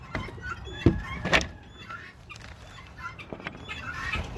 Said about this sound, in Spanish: Las coquenas, como siempre, son las primeras que me andan recibiendo